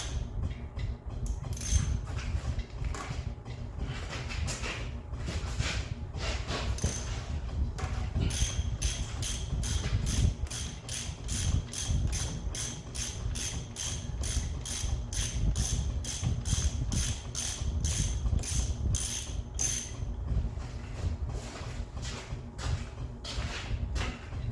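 Engine crane ratcheting to hold the engine of a Ford 8N tractor, a dense run of quick metallic clicks, fairly close and steady, thickening into a rapid even train in the second half, with no talk.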